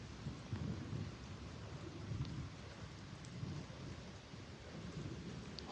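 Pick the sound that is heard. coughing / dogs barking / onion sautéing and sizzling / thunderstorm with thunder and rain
thunderstorm with thunder and rain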